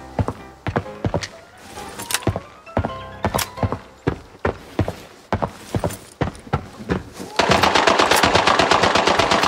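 Gunfire in Arena Breakout: a series of sharp single shots and short bursts, fairly close, ending in a rapid sustained automatic burst of fast, evenly spaced rounds.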